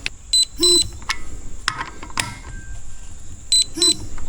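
Clutch cover bolts on a two-stroke Kawasaki KX250 tightened with a torque wrench to 78 inch-pounds, with short bright metallic clicks and ratcheting creaks arriving in small bursts, close to the microphone.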